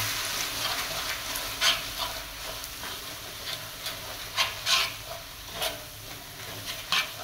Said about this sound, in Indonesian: Kemudian kita aduk-aduk.